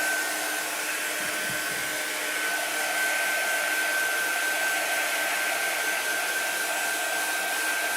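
A hair dryer blows steadily over a chalk-decorated winter decor piece, holding a loud, even airy roar with a thin whine throughout and no pauses.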